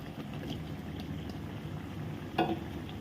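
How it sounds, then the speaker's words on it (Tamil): Raw mango pieces are stirred into a simmering onion-tomato masala curry, with a soft continuous bubbling sizzle and a brief louder scrape of the spoon near the end. "மாங்காய் சேர்த்து நல்ல வெங்காயம் தக்காளி மசாலாவோட நல்லா மிக்ஸ் பண்ணிடுங்க"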